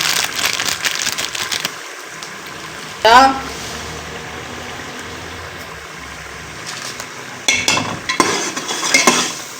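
Spices with red chili masala and dried coriander are fried and stirred in a pan for a turnip and spinach dish, with a soft sizzle under intermittent scraping clatters of a spoon against the pan.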